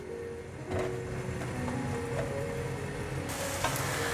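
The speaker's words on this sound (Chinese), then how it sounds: "再继续开中小火煎。" A flipped pancake frying in a pan over medium-low heat, a quiet steady sizzle with a few faint clicks and a light shift in tone partway through, with no talking.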